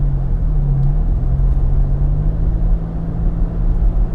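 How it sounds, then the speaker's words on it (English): Low, steady engine drone heard from inside the cabin of a 2017 Toyota Tacoma TRD Off Road pickup truck, a deep rumbling hum with a faint whir, constant and fairly loud throughout. "You can hear the engine noise roaring really well."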